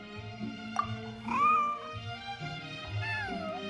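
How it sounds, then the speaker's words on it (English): Cartoonish cat from the video game Genshin Impact meows several times in a row, bright and close, with a longer rising cry in the middle and softer mews after, over light game background music. "Here, kitty kitty! That's it, Snowball! Good kitty"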